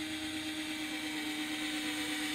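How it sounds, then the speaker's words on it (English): A power drill boring a hole into a fishing jug, a steady unbroken motor whine with a constant pitch, heard close and alone without speech. "And then basically just drill a hole."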